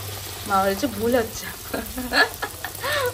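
Thin parathas sizzle in a pan on a home stove for a Sunday breakfast, a soft steady frying hiss running beneath a voice speaking close by.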